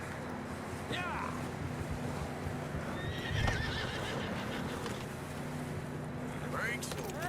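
Horses in Red Dead Redemption 2 whinny twice against a steady rumble of wind and movement, with hoofbeats clopping underneath; a brief louder thump lands midway and a faint voice is present.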